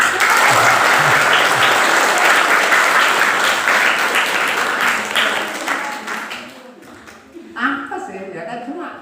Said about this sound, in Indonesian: Mari tepuk tangan.